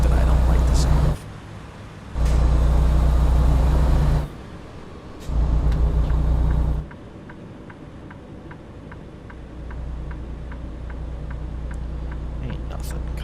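A truck engine in American Truck Simulator hums steadily and low, swelling in loud stretches between quieter gaps, with a ticking indicator clicking rhythmically in the later part.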